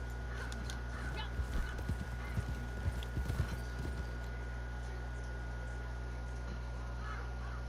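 Rhythmic clip-clop of horse hooves at a trotting pace in Red Dead Redemption 2, fairly close, alongside a faint voice and a low steady hum, fading out after a few seconds.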